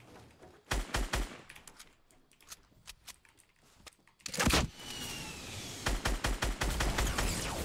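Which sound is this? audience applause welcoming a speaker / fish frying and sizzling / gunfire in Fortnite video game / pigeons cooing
gunfire in Fortnite video game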